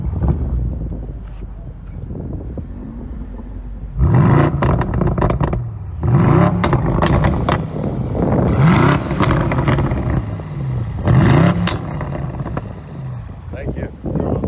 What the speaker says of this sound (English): let's see the M850 start up